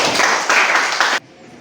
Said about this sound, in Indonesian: Tepuk tangan buat Ariel.